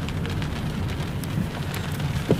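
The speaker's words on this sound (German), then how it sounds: "Und in den Regen." Steady rain patters on a surface outside the Audi plant in Neckarsulm during a new-car pickup, a soft even hiss with faint drops, moderately close and with no talk.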